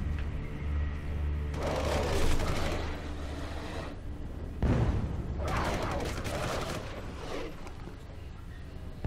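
Bursts of sci-fi gunfire from the video game Alien Breed Impact come in long, dense rattling volleys with brief gaps between them, loud and continuous over a low droning background.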